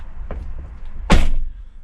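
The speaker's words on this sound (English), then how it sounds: "The door is closed." A car door shutting on a parked car: a single solid, close thud after a lighter knock, then a brief fading rumble.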